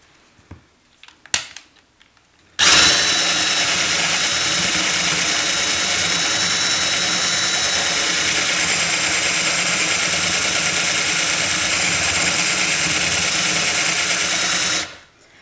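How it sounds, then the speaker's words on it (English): A power drill fitted with a flat spade bit bores a shallow countersink hole into a cake structure board, a loud steady whine running unbroken for about twelve seconds after a few brief clicks, with no talking. "Now, I'm not drilling all the way through it."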